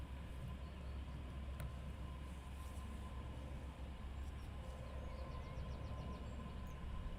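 Jet airliner departing Heathrow Airport, heard as a steady, distant broadband roar that holds evenly throughout without clear build or fade, with faint background bird chirps.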